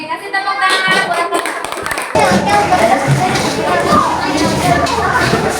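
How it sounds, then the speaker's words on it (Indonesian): A primary school class claps hands for a classmate, starting as scattered taps and swelling into loud, close, uneven clapping with children's voices mixed in. "kasih tepuk tangan buat"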